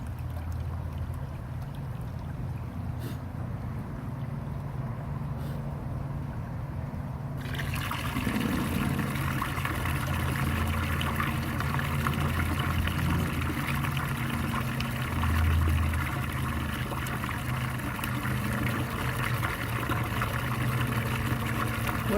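Water from a pump splashes and trickles steadily down a small pond waterfall, the flow suddenly starting up loudly after a quieter opening and continuing without a break.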